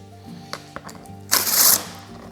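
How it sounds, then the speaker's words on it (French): Electric power tool spinning out Allen screws from a Kappa Airstream windscreen on a Suzuki V-Strom 650, a loud whirring burst of about half a second after a few faint clicks and handling knocks. "je vais faire l'utilisation d'outils électriques pour dévisser."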